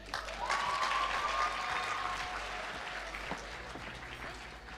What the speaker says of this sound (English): can we please give another round of applause to Latoya as she makes her way to stage